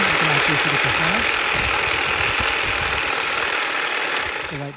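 An ALSO GO 20-inch cordless battery hedge trimmer runs with a loud, steady buzzing motor drone, close up, and a low voice speaks faintly beneath it at the start and end.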